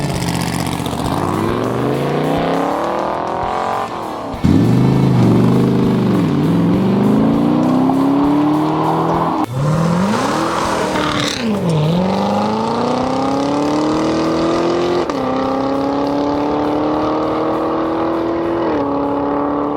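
Race cars roar past one after another on an open public road during a West Texas open road race with no speed limits, engines rising and falling in pitch as each passes close by, loud and continuous with no talk.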